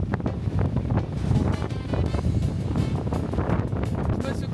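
Strong wind buffets the microphone beside the sea at Broome, a loud continuous roar with gusting rumble and no clear speech.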